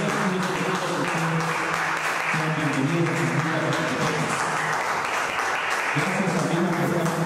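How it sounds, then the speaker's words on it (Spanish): An audience at a chamber music concert in San Lucas Sacatepéquez, Guatemala, claps steadily and loudly for musicians, with dense continuous applause and voices mixed underneath. "Brindémosles otro fuerte aplauso, por favor,"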